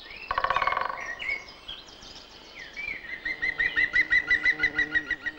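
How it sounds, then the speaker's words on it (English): Several birds chirp and sing close by, with a quick burst of rapid notes followed by a series of rhythmic repeated tweets. "The birds sing out each morning, and the air is filled with the symphony of nature's sounds."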